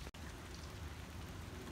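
Rain falls outside as a faint, even hiss with no distinct drops, heard from a distance and with no one talking.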